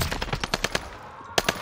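Tommy gun fires in Warzone on Rebirth Island, a fast close burst of rapid shots, then a short pause and another brief burst.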